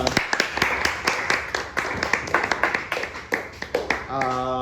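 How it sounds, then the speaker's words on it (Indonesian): Scattered hand claps from a small group for a speaker, uneven and close, fading into a brief voice at the end. "Tepuk tangan dulu dong buat pembicara kedua."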